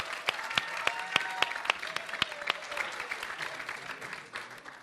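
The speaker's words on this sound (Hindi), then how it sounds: "तालियों के साथ आप दोनों का बहुत बहुत स्वागत है।" Studio audience at a televised TMC versus BJP political debate show applauds to welcome two professor contestants, a dense, steady crowd clapping with sharp individual claps standing out throughout.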